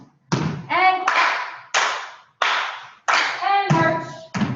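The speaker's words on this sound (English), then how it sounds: "And clap." Hand claps from children at a dance and movement storytime ring out in quick, loud bursts, roughly seven in a row at a steady pace, close to the listener, with some voicing mixed in.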